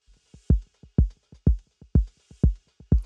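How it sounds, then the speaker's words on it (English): Drums run through tape echo with a shifting echo rate: steady heavy kick hits about every half second, each followed by fainter delayed repeats that drift in timing, loud and dry with no voices. "Echo rate shifting."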